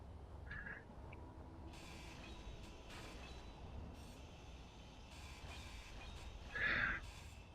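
A train in a video game rolls along with a steady low rumble, overlaid with intermittent metallic hiss and screeching bursts and a short loud squeal near the end, no voices.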